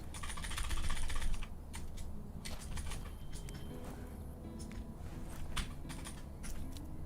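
Rapid computer keyboard key presses click close up in short, irregular bursts during a tense moment in a video game, with no talking over them.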